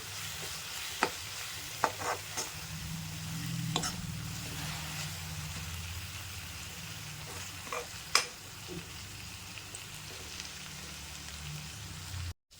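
Raw banana sautéed in a frying pan gives a steady low sizzle, with scattered clicks and scrapes of stirring throughout, close and moderately loud, with no talking.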